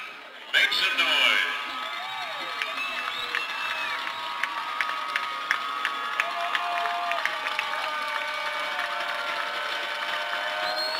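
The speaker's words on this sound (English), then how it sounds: "Crowd getting loud here." A high school football stadium crowd cheers at kickoff, a loud swell of shouting near the start that settles into sustained crowd noise with whistles and scattered calls, while an announcer talks.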